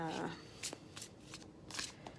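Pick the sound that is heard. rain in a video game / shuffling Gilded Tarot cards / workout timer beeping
shuffling Gilded Tarot cards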